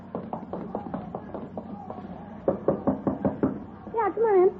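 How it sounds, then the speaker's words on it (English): Knocking on a door in a radio drama, with two quick sets of raps, the second louder and closer, followed by a brief vocal sound at the end. "You knock on the door."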